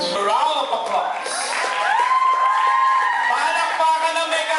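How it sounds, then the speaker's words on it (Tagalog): A live audience cheers, whoops and claps at an indoor gathering, a loud continuous crowd roar with high shouted voices rising over it. "Round of applause."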